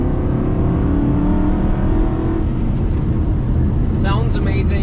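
2007 Aston Martin Vantage engine revving hard under acceleration, a loud, smooth rising drone heard from inside the car, climbing steadily before easing near the end.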